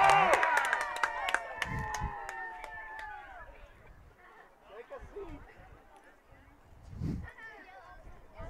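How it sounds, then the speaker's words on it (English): Crowd noise at an under-13 boys' soccer match, with cheering and chanting from spectators in an outdoor stadium, rising in swells beneath nearby speech and loudest near the start. "All the cheering to the right and the chanting, that's the under 13 Prince Edward Island boys team."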